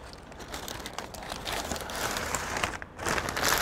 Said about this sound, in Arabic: فأستخدم كيس ورق مثل هذه كيس عادي